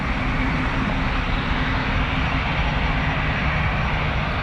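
A Boeing 747-8 cargo jet departing from runway 24 right at Toronto Pearson, a continuous broad engine roar with a steady low hum, holding at the same loudness throughout.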